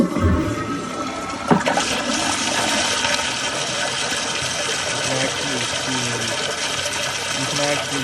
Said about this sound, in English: can actually see the water coming out of the siphon jet very easily now